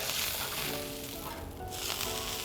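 A burger patty sizzles steadily in a hot pan just after being flipped, a dense, continuous hiss that swells briefly and holds close up with no talking.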